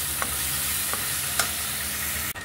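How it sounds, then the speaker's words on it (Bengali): Chicken frying in oil with onion, ginger and garlic gives off a loud, steady sizzle close by, with a few soft scrapes as it is stirred in the pan. "একটু নেড়ে নিলাম তেলেতে ভালো করে।"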